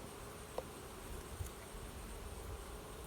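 Honey bees at a hive frame of emerging brood with young bees give off a continuous, even buzzing hum, close and steady, with a couple of faint clicks and no voices.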